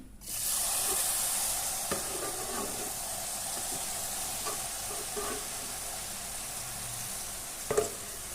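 Grated coconut and cream cooking in ghee in a pan for coconut burfi, a soft, even sizzle that runs steadily throughout, with occasional faint stirring scrapes and a small clatter near the end.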